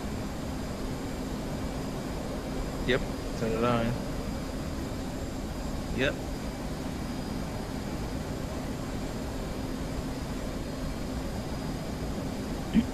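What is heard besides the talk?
aircraft engine in video game DCS flight simulator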